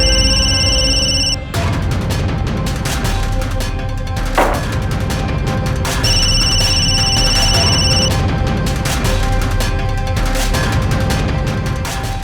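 A telephone rings in two bursts of electronic tones, one at the start and one partway through, over a loud, busy background, with no talk.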